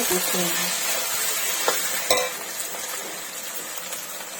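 Mutton with ginger being stirred in a pot for a home-style mutton curry: a soft sizzle under scraping spoon strokes, with a few sharp clinks of utensil against metal.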